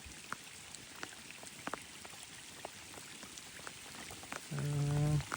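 Steady rain patters densely on surfaces with scattered distinct drops during snakehead fishing, joined near the end by a loud droning tone.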